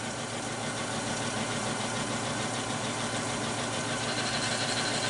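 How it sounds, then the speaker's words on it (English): A wood lathe spins a walnut blank mounted between centers at about 360 RPM, giving a steady, even motor hum with faint mechanical rumble and no speech. "We're going to fire it up and round up these corners."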